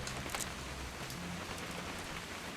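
Steady rain in the video game What Remains of Edith Finch hisses throughout, dense and even, with faint patters and a low rumble underneath, no voices.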